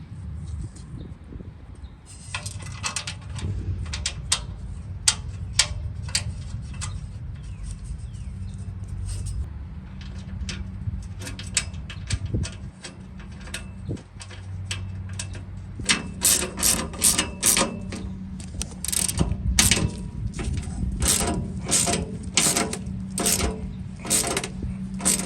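A hand ratchet clicks steadily while tightening bolts on a Char-Griller Grand Champ XD offset smoker being assembled, giving quick close-up pawl ticks over a low background hum that grow busier toward the end.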